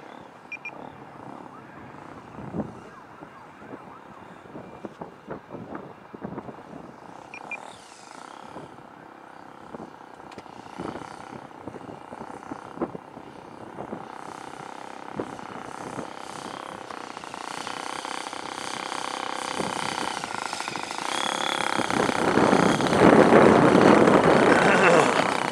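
An EAA biplane tail dragger idles while taxiing, its engine a low, uneven chugging rumble that swells louder toward the end, with wind noise and people talking over it.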